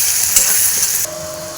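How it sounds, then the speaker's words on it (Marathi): Chili powder mixture frying in a pan for crispy idli fry, a steady close sizzling hiss that drops to a quieter simmer partway through, with no talking. "हे मस्तपैकी आता फ्राय करून घेऊया."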